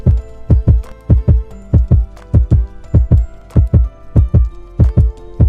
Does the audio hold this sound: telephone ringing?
no